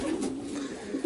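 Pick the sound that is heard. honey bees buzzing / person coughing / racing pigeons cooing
racing pigeons cooing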